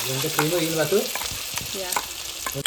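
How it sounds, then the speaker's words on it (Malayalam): A paste of cashew, chilli, tomato and garlic sizzles in butter for creamy chicken pasta, with close, steady frying crackle and a few spatula scrapes over a short stretch. "ഇനി നമ്മൾ നേരത്തെ അടിച്ചെടുത്ത പേസ്റ്റ് അതിനകത്തോട്ട് മിക്സ് ചെയ്ത് കൊടുക്കുന്നുണ്ട്."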